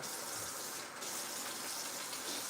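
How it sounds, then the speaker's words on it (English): Tap water runs for hand washing, a steady close gush that pours without a break under a brief dip in the middle, with nobody speaking. "I'm gonna wash my hands now."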